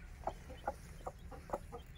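Aseel chickens clucking in short, evenly spaced calls, roughly six soft clucks over two seconds, from a hen with her chicks roaming a home yard, set against a low steady background rumble.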